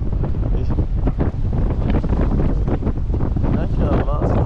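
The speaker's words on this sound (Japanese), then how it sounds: "画面を通して風の音しか入ってないんじゃないかな。" Strong cold wind buffets the microphone outdoors, a loud continuous roaring rumble with gusty surges throughout, with a voice faintly audible beneath it.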